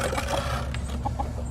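Chickens cluck softly in short scattered notes beneath a dense, noisy outdoor background, close but partly masked.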